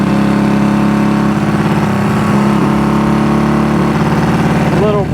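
A Honda CB200T motorcycle engine with a broken camshaft runs steadily in fifth gear, its loud, continuous drone faltering and breaking up briefly before a downshift near the end.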